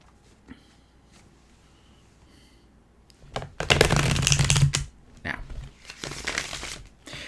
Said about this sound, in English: This is the second to last shuffle.